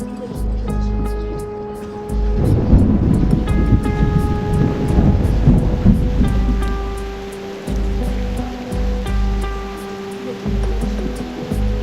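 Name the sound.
thunderstorm from video game Reverse: 1999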